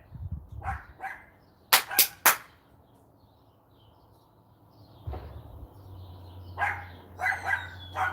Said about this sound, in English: Barking at the chickens.